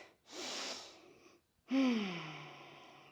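Deep, slow breathing during a yoga pose: a long airy inhale, a brief pause, then a fuller exhale that trails off, heard close and alone.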